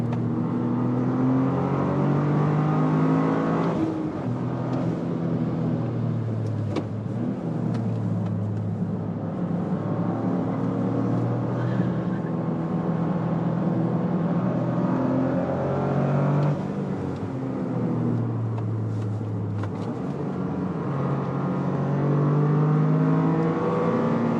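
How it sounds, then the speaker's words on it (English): Toyota GR Corolla engine revving on a race track, a steady loud drone with rising and falling pitch as it climbs through the revs and shifts, sustained throughout with no talk. "this engine is quite quiet, so you may actually hit the rev limiter unintentionally"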